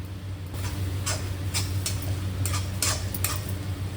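Coriander powder being stirred into pork in a pan for pork fry, with soft periodic scraping and clinking strokes over a steady low hum, moderately close.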